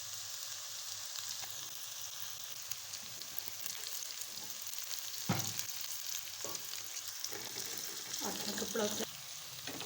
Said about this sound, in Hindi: बंद गोभी को भी हमने फ्राई कर लिया।